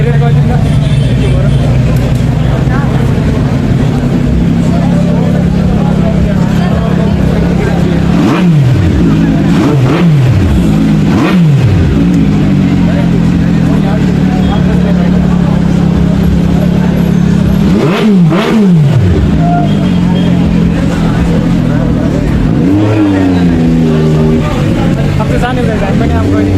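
Loud superbike engines rumble at Nepal's biggest superbike meetup, with several sharp rising revs in quick bursts over a constant low idle drone, and people talking nearby throughout.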